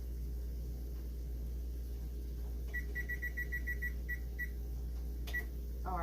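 A kitchen timer in a home kitchen beeps in a quick run of eight short, bright tones, followed by a couple of single beeps, over a low steady oven hum.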